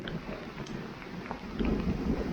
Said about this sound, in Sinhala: ඈතින් අකුණුත් ගහනවා.